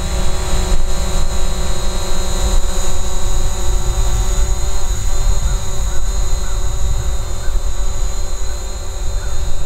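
A DJI Mavic Pro drone flies forward outdoors in wind, giving off a loud, steady, close high-pitched whir that runs unbroken from start to finish with no talking.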